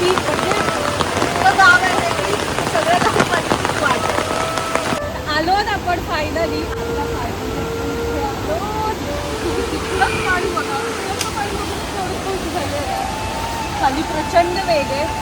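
Fast-flowing village stream, its water rushing steadily as a broad, continuous wash close by, with people talking over it throughout.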